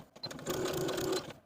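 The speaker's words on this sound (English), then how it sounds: "Then we can take it to the sewing machine and baste along the short and long edges" A sewing machine runs in a short steady burst of rapid stitching, basting fabric pant pieces along the edges, close by, with a brief start and stop.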